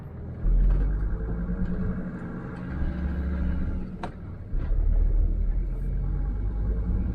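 A car with freshly overhauled suspension, its airbags removed, rolls over a rut in the road, a low continuous cabin rumble with a few thuds and jolts as the wheels hit the dip, under brief talk.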